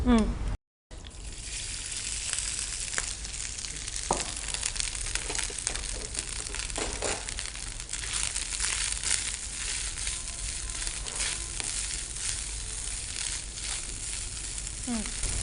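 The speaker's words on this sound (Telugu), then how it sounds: "దీనిలో ముందు గీ వేసుకొని కొబ్బరిని గీలో వేయించుకుందాం" Grated fresh coconut fries in hot ghee, giving a steady dense sizzle with scattered crackles and scraping stirs throughout, after a brief gap at the start.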